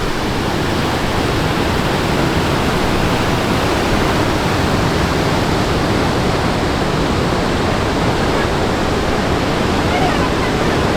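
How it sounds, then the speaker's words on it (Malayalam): A two-tiered waterfall rushes beside a campsite with a loud, continuous, broadband roar of falling water that stays close and steady throughout, without any break. "രണ്ട് ലെയറായിട്ടാണ് വാട്ടർഫോൾ"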